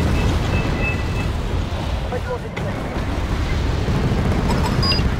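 A war video game battle with sustained heavy rumbling and explosive booms, dense and loud throughout, with a sharp crack near the middle and talk running underneath.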